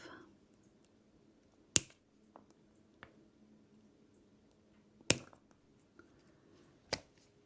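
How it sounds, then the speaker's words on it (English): Wire is cut off with a sharp snip while a purple jasper pendant is being wrapped. Three crisp, isolated clicks stand out against near silence, with fainter handling sounds between them. "And then I'm going to cut it off."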